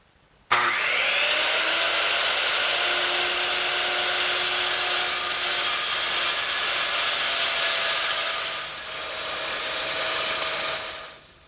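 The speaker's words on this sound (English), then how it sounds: "I'm going to use my circular saw to take out that material" A circular saw cuts hardboard laid on a 2x4 workbench frame, a loud, steady, high-pitched whine that lasts about ten seconds close up, dips briefly near the end, then spins down, with no talking.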